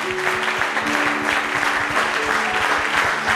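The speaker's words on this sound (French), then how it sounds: "Est-ce que tu peux acclamer pour le Seigneur?" A church congregation at a Sunday service claps and cheers together, steady loud applause filling the room with rapid overlapping hand claps and a crowd murmur, a held musical tone faintly underneath.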